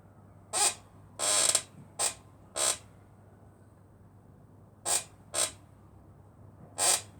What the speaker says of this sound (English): See, it started creaking again.